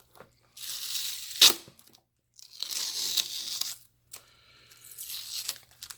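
Painter's tape is peeled off a package in three ripping, crinkly pulls separated by brief silences, close and fairly loud with a sharp snap near the start.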